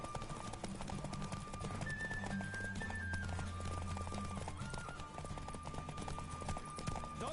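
Rapid hoofbeats of a galloping horse pound steadily beneath a busy mix of music and effects, with a brief whinny early on, during a horse race in a PS4 video game.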